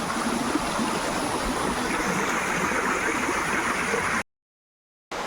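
Steady rushing of a waterfall stream flowing over rocks at Megamalai, Theni, loud and close, continuous broadband water noise that cuts out briefly near the end.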